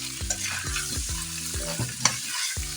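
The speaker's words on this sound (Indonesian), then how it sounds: "kita aduk ya guys" A spoon stirs chicken porridge in a pot, Cirebon style, with quick, regular strokes roughly every half second. Each stroke gives a thick, wet scrape over a continuous low bubbling sizzle, with no voices.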